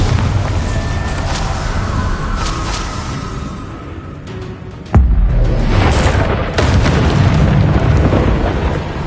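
Bombarda spell blasts in the Hogwarts Legacy video game: a loud, sudden boom strikes midway, cutting into ongoing crackling spell-combat effects and rumble that carry on around it.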